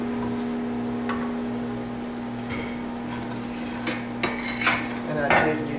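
All-purpose flour cooks in a pan over medium heat for gravy, a low continuous hum beneath a few clicks and scraping stirs that grow busier toward the end.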